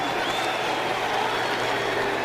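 Football stadium crowd at a Buccaneers home game against the Eagles, a steady broad roar of displeasure after a quarterback sack, filling the whole moment without pause.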